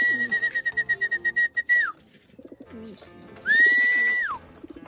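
Checkered pigeons gather at a trap, cooing in a quick series of soft pulses close by, with two long whistled notes in between.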